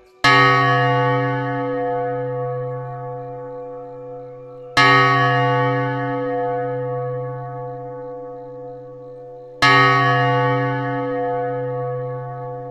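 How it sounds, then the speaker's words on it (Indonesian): A resonant meditation bell struck three times at even intervals before a Buddhist session, each loud strike ringing out with a long, slowly fading hum, alone with no talk. "seiring bunyi bel 3 kali juga"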